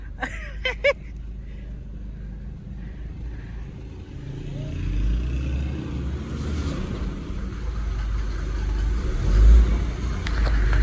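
A Mercedes W124 sedan is driven along a road. A low engine rumble and steady road noise run throughout, the drone rising slightly midway, with a few faint clicks at the start.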